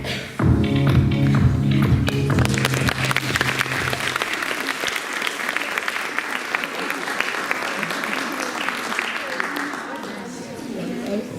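A room full of people at a film festival screening claps steadily for several seconds, the applause starting abruptly and gradually thinning out.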